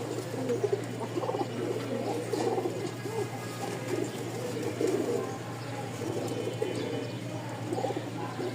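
Pigeons at a pigeon market in Mirpur, Dhaka, coo steadily in overlapping, continuous calls over a low steady hum, with faint chirps mixed in.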